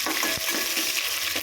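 Chana dal and dried red chillies stir and fry in a pan, a steady bright sizzle broken by a few scraping stirs of the spoon, close and continuous with no talk.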